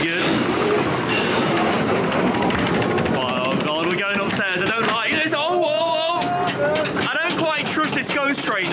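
A ghost train ride car at the Wiener Prater amusement park rattles along its rails, a loud continuous clatter mixed with whooshing effects, with excited voices talking and exclaiming over it.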